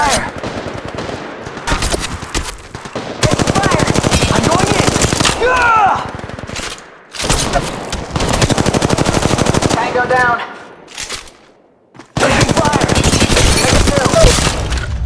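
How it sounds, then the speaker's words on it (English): Rapid automatic weapon fire in the Apex Legends Mobile battle royale game, long sustained bursts of dense shots with brief gaps, loud and close, with ricochet-like whines between volleys. "Taking fire!"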